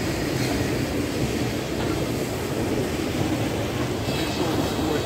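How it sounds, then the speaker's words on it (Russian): A train rumbles past close to a wild pebble beach with breakwaters, its broad continuous roar blending with the surf at a steady loud level throughout. "Пришел какой-то поезд, испортил все видео."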